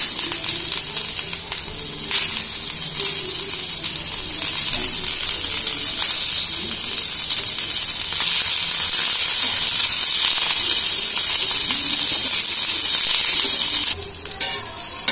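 Curry leaves crackle and sizzle steadily in hot oil in a pan, a loud, close, continuous frying hiss with occasional spatters and stirring, no voices.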